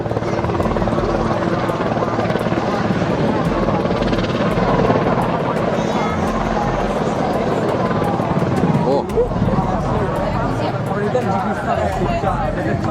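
Helicopter rotor noise, loud and continuous, as the aircraft comes down onto open water during an emergency landing, with steady low thumping and broad wash throughout and faint background voices.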